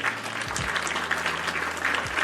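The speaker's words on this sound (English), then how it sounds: "I think I was clapping there" Hands clap in a dense, continuous patter, like a group applauding. The sound is steady and moderately loud, with a low hum running underneath.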